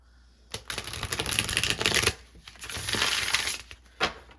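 Tarot cards riffle and clatter as a deck is shuffled by hand, two quick bursts of papery flicking close up, then a short final tap, with no voices.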